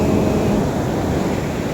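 Large ocean waves wash onto a beach in a loud, steady roar mixed with wind buffeting the microphone, with no voices.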